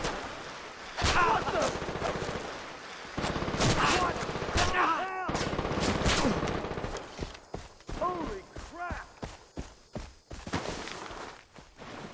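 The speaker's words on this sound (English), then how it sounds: "I'll suppress with the mounted gun!" A mounted machine gun in Far Cry 3 fires long, steady automatic bursts, loud and close, with footsteps and shell clinks mixed in and a few shouts and laughs over the firing.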